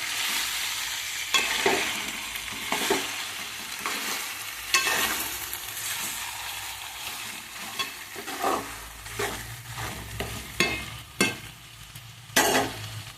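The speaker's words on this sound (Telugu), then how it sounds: "బాగా తిప్పాలి." Chicken curry being stirred in a pan, with repeated scraping and stirring strokes over a steady sizzle, close and fairly loud, with no talking.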